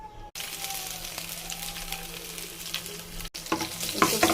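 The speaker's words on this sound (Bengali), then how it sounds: "এখন খাট্টাটা একটু ফোড়ন দিয়ে নেব, অল্প একটু তেল দেব।" Garlic sizzles in a little hot oil as a tempering for tomato khatta, a close, steady crackling fry with stirring scrapes and a couple of brief breaks in the sound.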